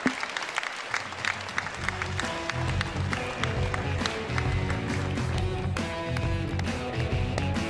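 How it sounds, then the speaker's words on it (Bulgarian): A hall full of people applauds at the 2016 Sportsman of the Year sports gala, with steady, lively clapping over loud music playing throughout. "Аплодисменти за Ружди Ружди и Белчо Горанов"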